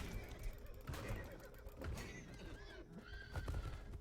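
Horses whinny several times in the ATLAS video game, with shrill, wavering neighs among hoof clip-clops, bursts of gunfire-like cracks and faint talk.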